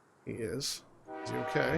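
A train horn in the Workers & Resources: Soviet Republic video game sounds in two short tonal blasts, with someone speaking over and between them.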